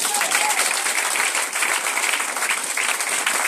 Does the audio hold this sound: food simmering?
no